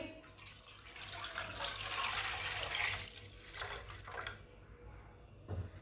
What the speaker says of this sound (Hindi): 1 किलो दूध डाल लेंगे।